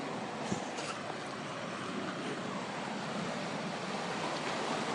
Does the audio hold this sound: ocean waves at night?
yes